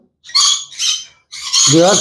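A crimson-bellied conure parrot gives three sharp, harsh screeching calls close by, two short bursts followed by a longer one, with a brief voice sound mixed into the last.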